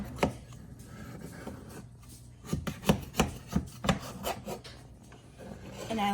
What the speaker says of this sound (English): So you're gonna take a butter knife and you're just gonna scrape around.